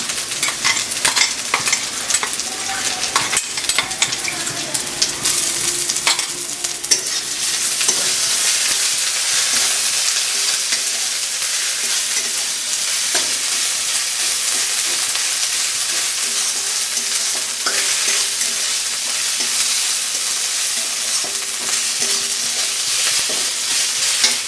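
A ground paste of onion, garlic, green chilli, pepper and cumin fries loudly in hot oil in a pan for a tilapia and eggplant curry, a constant close sizzle broken by repeated scraping stirs, with no voices.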